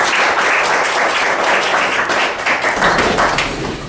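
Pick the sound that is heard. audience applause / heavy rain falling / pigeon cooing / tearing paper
audience applause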